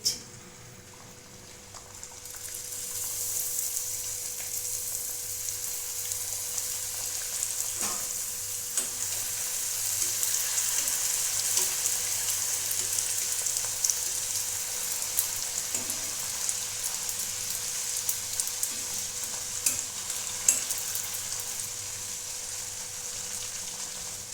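Homemade fuchka (golgappa) puris fry in a karahi of hot oil on a gas stove, giving a continuous close bubbling sizzle that swells slightly midway, with occasional soft clicks and no voices.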